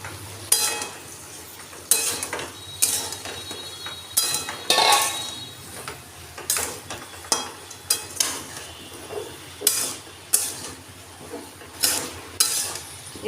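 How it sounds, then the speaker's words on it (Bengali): Fried vegetables, soybean chunks and potato being sautéed in a spice mix for a pointed gourd curry: a steady run of about a dozen spatula scrapes and stirs against the pan, close and moderately loud over a low sizzle, with no talking. "এগুলো আমি ভালো করে কষিয়ে নেব"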